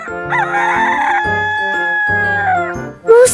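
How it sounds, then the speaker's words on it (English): A rooster crows at close range in one long, drawn-out call, ending in a brief bright rise. "Rooster."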